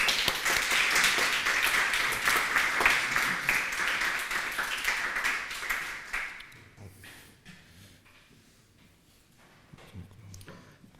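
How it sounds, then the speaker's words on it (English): A crowd claps warmly for a speaker taking the stage at an event, many hands at first that thin out and fade after about six seconds, leaving scattered faint claps and room noise. "please all give a very warm applause to Thomias Radin."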